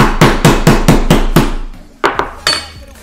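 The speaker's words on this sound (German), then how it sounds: "hau ich mir mit dem Hammer auf die Hand" A hammer strikes something solid in a kitchen during a cooking stream: six or seven sharp, evenly spaced knocks in quick succession, then a pause and three more scattered hits, loud and close.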